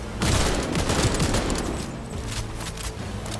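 Rapid automatic gunfire in the video game Cyberpunk 2077, a loud, dense burst of continuous shots that sustains throughout and then thins slightly toward the end, with no talk over it.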